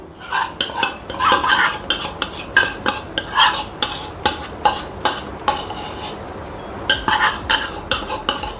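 Spoon stirring khoa into pumpkin and sabudana kheer in a pot, a steady series of close scraping strokes and clinks against the metal, with no talking.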